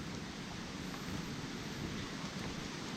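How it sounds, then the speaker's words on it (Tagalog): A constant rushing roar of water from Sagpulon Falls in Jasaan, Misamis Oriental, fills the air as a steady broadband hiss without any voices. "Rinig na rinig natin yung ragasa ng tubig"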